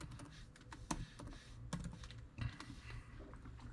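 Keys clack on a computer keyboard while someone types a command into a search bar, with a few sharper, louder strokes among softer ones. It sounds close and steady, and no one speaks.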